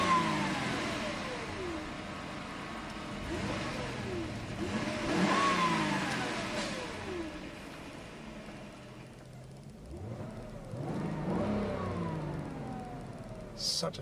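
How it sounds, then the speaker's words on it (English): A 1997 Mercedes-Benz E420 W210 engine revs repeatedly, with several rising and falling sweeps of medium-pitched engine roar, fairly close and loud, between quieter idle stretches. "Such a rev-happy engine."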